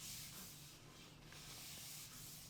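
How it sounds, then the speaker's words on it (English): Dried wood on a handmade Aeolian harp being buffed with a piece of brown paper bag, a close, steady rubbing hiss that continues evenly without pause, with no talking. "I'll buff it with a piece of brown paper bag to give it a silky smooth surface."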